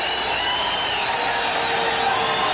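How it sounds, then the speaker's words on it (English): A 1986 basketball arena crowd in Sacramento roars continuously, a dense, loud wash of cheering and whooping filling the whole stretch without pause. "Listen to this crowd."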